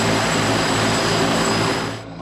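T-129 ATAK attack helicopter in flight, a dense, steady rotor and engine roar with a high turbine whine, loud and close, easing off slightly at the very end.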